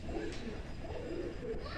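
Pigeons in a Tippler pigeon loft give faint, soft cooing over a hushed, steady background with no talk.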